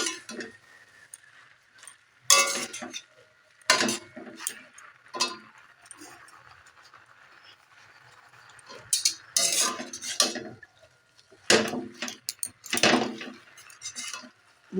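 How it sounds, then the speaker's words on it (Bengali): A metal spoon stirs lentils and jute greens in a wok, giving irregular clinks and scrapes. The bursts are spaced a few seconds apart over quiet pauses, close by and fairly soft. "দিয়ে দিলাম কড়ার মধ্যে খানিকটা নাড়াচাড়া করে নেবো"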